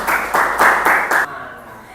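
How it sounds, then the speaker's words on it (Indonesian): Applause in a classroom for a group presenting at the front, a few slow, heavy rhythmic claps in close succession, then stopping abruptly into quiet room tone. "Tepuk tangan untuk kelompok yang ada di depan ya"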